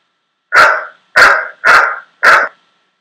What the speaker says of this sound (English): I'm going to slide this down to the barking and play it